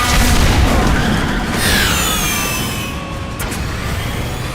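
A taxi hits a truck head-on at speed in Mass Effect 2, giving a loud heavy boom that rolls off into a fading rumble with faint mechanical rattles and no talk.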